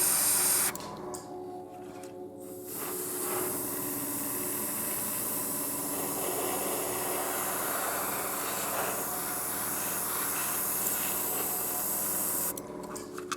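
Airbrush spraying acrylic paint onto a 1/35 Tamiya Hanomag Sd.Kfz. 251/1 scale model kit, a steady close hiss running almost continuously with short pauses near the start and end.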